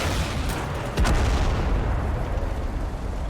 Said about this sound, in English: This is our tank, I think, firing away, destroying the forest.